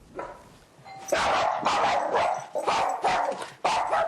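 A doorbell chimes briefly, then a dog erupts into a burst of loud, rapid barks, several sharp woofs in quick succession, close by.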